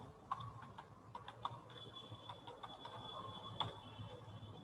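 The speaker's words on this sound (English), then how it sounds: "Let us type the email address here." Quiet, uneven clicks of a computer keyboard as an email address is typed, the soft keystrokes coming in short bursts over a faint steady hum in a room, with no one speaking.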